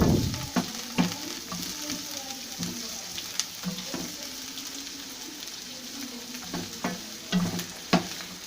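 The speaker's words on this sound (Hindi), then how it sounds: "अब हमने दोनों चीज़ों को अच्छी तरीके से फ्राई करना है" Ingredients for white sauce pasta fry in oil with a steady soft sizzle, broken by occasional stirring clicks and scrapes of a utensil in the pan, heard up close at moderate loudness with no talk.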